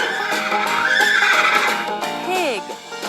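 A horse whinnies in a children's farm-animal matching game: a bright, wavering neigh that ends in a falling tail, set over a steady bed of cheerful background music.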